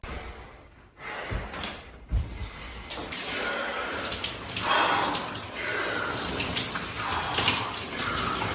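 Cold shower running water during a Wim Hof-style morning routine: a few knocks and thumps, then a steady near hiss of spraying water with splashing surges and a couple of sharp breaths over it.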